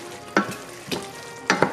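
Scallions and vegetables stirred in a hot pan for a plant-based beef lo mein, three distinct scraping stirs against a low sizzle, close and fairly loud with no talking.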